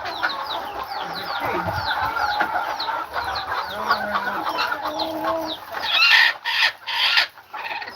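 Forty-five-day-old broiler chicks cluck and chirp continuously on a farm, many birds overlapping at close range, with louder squawks near the end.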